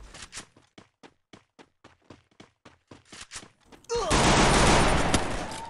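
Glock 18 pistol in a video game fires a rapid string of about a dozen crisp, evenly spaced shots, close and loud, followed by a sudden dense burst of blast and roaring noise that fills the final seconds.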